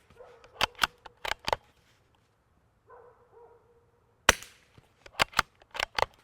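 A 9mm firearm fitted with a Rugged Obsidian 9 modular silencer fires a string of quiet, sharp pops in quick clusters outdoors, with a brief low mechanical sound between the volleys.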